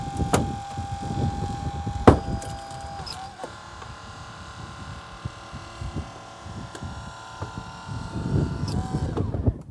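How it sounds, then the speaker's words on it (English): A Holmatro hydraulic rescue cutter slices through a car's roof post, heard as a steady mechanical hum with a few sharp cracks and metallic snaps, fairly loud and close. "As you can see, the cutters go straight through."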